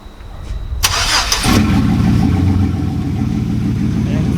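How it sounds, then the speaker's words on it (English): A GMC pickup truck's engine cranks and catches, then settles into a steady, close rumbling idle after a brief starter whir. "I would just turn on the truck."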